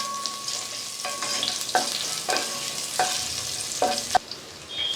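Crushed garlic and ginger sautéing in a pan for ghee rice, a constant close sizzle broken by several distinct spatula scrapes and stirs at a loose, irregular rhythm.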